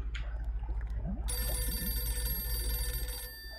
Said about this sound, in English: Yeah, it's ringing, but I can't turn it off.